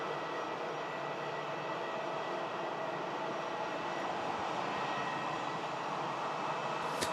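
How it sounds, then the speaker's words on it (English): An EasyJet airliner taxiing out at Manchester Airport, a steady, broad jet engine roar at moderate distance that holds evenly throughout with no voices over it. "EasyJet just taxiing out in front of us to Paris."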